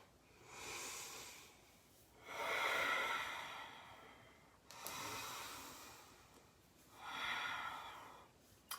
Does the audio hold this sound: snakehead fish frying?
no